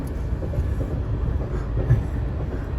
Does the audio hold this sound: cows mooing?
no